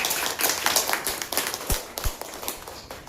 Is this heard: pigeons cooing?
no